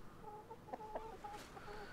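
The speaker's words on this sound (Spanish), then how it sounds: "Aquí está la gallina" A chicken in the video game ARK: Survival Ascended clucks repeatedly in short, quiet bursts over a soft background hum.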